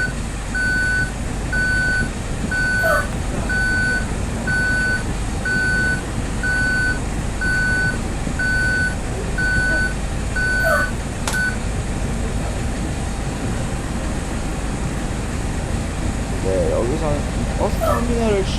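An intercity double-decker bus reverses out of a terminal, its backup alarm sounding a steady train of evenly spaced beeps over a constant engine and ventilation drone; the beeping stops about two-thirds through while the rumble continues.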